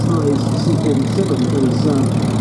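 A Douglas C-47 idles its piston engines at an air show before departing, giving a steady low propeller drone with a throbbing rumble throughout, while a voice talks over it.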